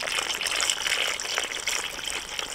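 Water pours steadily into a pot while cooking an Easter feast, a continuous gushing splash, fairly close and without talking.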